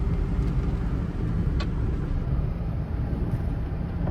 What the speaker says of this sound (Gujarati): ત્યારે છે ને આપણો ટ્રેક્ટર હાલે છે